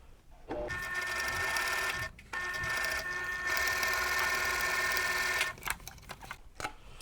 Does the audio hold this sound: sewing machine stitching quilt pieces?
yes